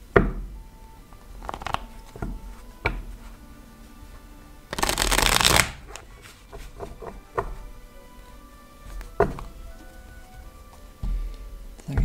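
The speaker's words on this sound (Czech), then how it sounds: "já si teď budu chvíli míchat karty" A deck of tarot cards is shuffled by hand in repeated riffling bursts with short pauses and soft taps between them, one longer dense shuffle in the middle, close and clear with no talking.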